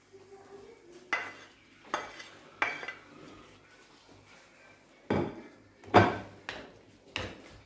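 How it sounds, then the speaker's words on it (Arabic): Chicken pieces dropped into a pan of cream sauce for fettuccine, with sharp metallic clanks and scrapes of a utensil against the pan and a faint simmer underneath. "دابا غنزيدوا الدجاج اللي كنا حيدنا قبيله"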